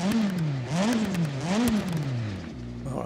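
A car engine in a racing simulator game revs up and down in repeated rising and falling sweeps, loud and close, then drops toward idle near the end.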